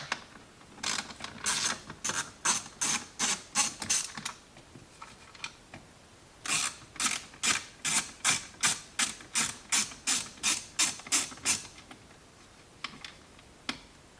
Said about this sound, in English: The next step is going to be to use an 8mm socket to remove both of these small black screws here.